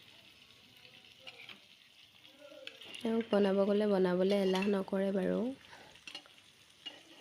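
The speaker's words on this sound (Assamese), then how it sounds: "এইফালে কেৰাহীত মাংস দিছে" Meat fries in a wok in a home kitchen, giving a steady sizzle beneath a loud sung melody and casual talk.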